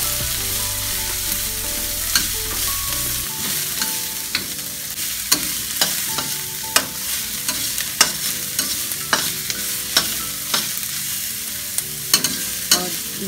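Garlic and onion sizzle steadily in a hot pan for vegetable spring rolls, with a spatula scraping and tapping the pan at irregular intervals, close and continuous with no talk.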